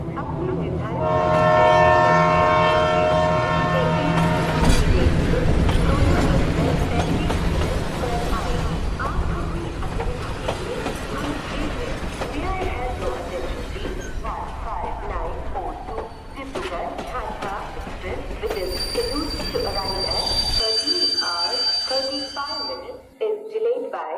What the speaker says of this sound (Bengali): ট্রেন চলাচল আবার শুরু হয়।